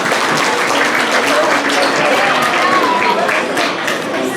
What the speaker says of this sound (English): let's give them a big round of applause as they exit the stage